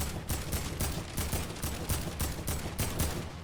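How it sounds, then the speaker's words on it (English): Rapid, dense gunfire in Fortnite from a heavy shotgun and a Desert Eagle, with loud shots cracking in steady succession throughout and no talking over them. "He was using the heavy shotgun and deagle combo right now"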